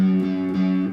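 A single sustained plucked guitar note from a string pressed too hard, with a slight wavering pitch, ringing steadily for about a second before cutting off.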